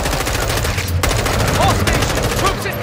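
Rapid automatic gunfire in the Call of Duty: Modern Warfare 2 campaign mission Hindsight, loud continuous bursts with dense sharp cracks throughout, no voices.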